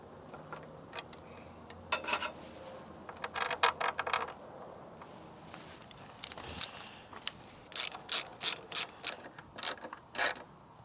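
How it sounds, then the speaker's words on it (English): A ratchet clicks as it backs out the screws holding a Jeep JK tail light lens to the body, in quick rhythmic bursts of ratcheting with handling noise between them, close up and fairly quiet. "I'm going to take these out and use the original screws from the Jeep."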